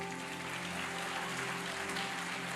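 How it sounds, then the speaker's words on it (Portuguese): Congregation clapping in an evangelical church service, a dense steady wash of applause filling the whole stretch with a held musical drone underneath. "aplauda Jesus"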